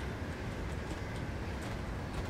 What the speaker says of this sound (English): I think I can hear a freight train coming through.